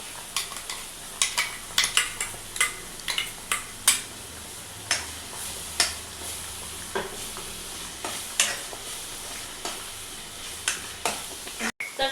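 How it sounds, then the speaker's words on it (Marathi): Tomato paste frying in a pan, a soft steady sizzle under repeated sharp scrapes and clinks of a spoon stirring at an irregular rhythm, close and fairly loud, with no talk. "याला आता थोडंसं फिरवायचं अजून चांगलं शिजू द्यायचा थोडा वेळ"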